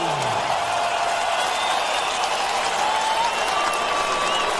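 A large boxing arena crowd in Las Vegas, Nevada cheers and applauds in a radio drama, a dense, steady roar of clapping and shouting that stays loud throughout.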